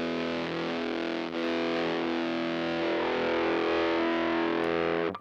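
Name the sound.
guitar through Little Bear Fuzz distortion pedal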